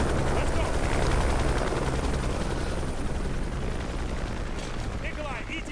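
A helicopter in the video game Call of Duty: Modern Warfare 2 gives off a loud, continuous rotor roar and thumping that fills the whole clip, easing slightly toward the end.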